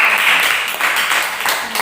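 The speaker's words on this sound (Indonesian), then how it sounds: "Ya, tepuk tangan." Classroom audience clapping after a group presents its discussion results, a dense continuous patter of many hands for about two seconds, with a few voices mixed in.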